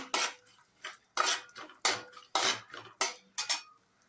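Metal spoon clinks and scrapes in a pan as dry fruits and poppy seeds are roasted in ghee, a steady rhythm of about seven distinct stirring strokes, close and moderately soft, with no talking.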